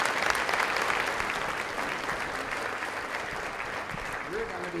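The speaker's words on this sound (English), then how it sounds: "Give a big round of applause." Sustained audience applause fills a 50th anniversary award and celebration dinner, steady and dense throughout, with a brief voice surfacing near the end.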